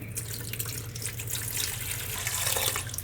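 Tap water running steadily into a clear acrylic enclosure being filled to check for leaks, a close, continuous splashing rush with no voices.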